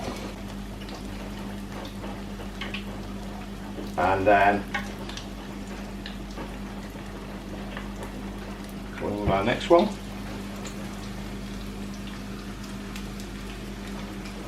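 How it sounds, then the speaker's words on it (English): Fish frying in hot oil for fish and chips, a steady low sizzle running throughout, with two brief louder bursts of spluttering as pieces are lowered in; a person talks briefly over it. "So you can see that frying away nicely there."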